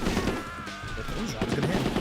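Gunfire from an aimed gun in the video game Yakuza 2, a quick burst of sharp shots over a couple of seconds, mixed in with game sounds and background music.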